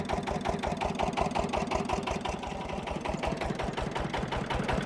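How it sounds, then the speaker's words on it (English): A simple little model engine runs steadily at speed, giving a fast, even buzzing rattle that holds close and loud throughout with no voices. "They are really simple little engines and absolutely super."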